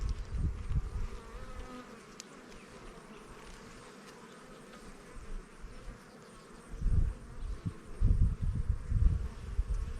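Irritated bees buzz around an opened hive while honey is taken, a close, droning hum with individual bees swelling louder as they fly near, no talking.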